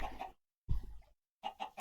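A chicken in the Minecraft video game clucks in three short bursts of quick, close, clear clucks separated by silent gaps.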